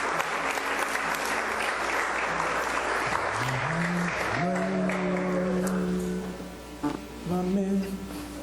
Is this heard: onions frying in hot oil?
no